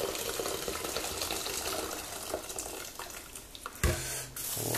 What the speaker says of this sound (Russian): И дальше заливаем их кипятком, чтобы их обеззаразить